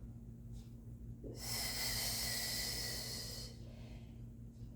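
A single long, forceful exhale during a core exercise hisses through the middle of a quiet stretch, with a low steady hum in the background.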